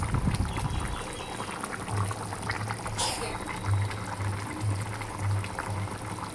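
A pot of duck curry bubbling steadily at a low boil, soft popping and simmering with a faint sizzle throughout, close by.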